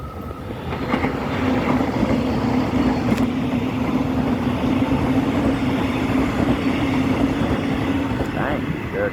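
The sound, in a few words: Melbourne Metro train passing at Seaford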